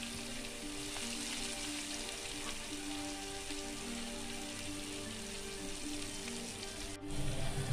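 A large chopped onion frying in hot oil with mustard seeds and curry leaves for a Tamil omelette egg curry, giving a steady, close, even sizzle with faint stirring and no talk.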